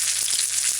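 Oil sizzles and crackles steadily as a fish patty fries, a close, bright hiss with no talking.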